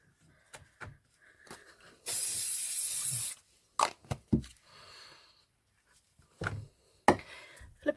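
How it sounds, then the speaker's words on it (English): Chronix Tesco Max Hold hairspray sprayed from the can: one steady hiss lasting just over a second, set among quiet handling clicks and rustles. "this is Chronix Tesco Max Hold Hairspray, 24-hour humidity resistant quick dry"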